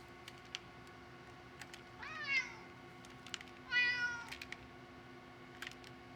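Two drawn-out cat meows, heard close, over a quiet room hum with scattered light taps and clicks between them.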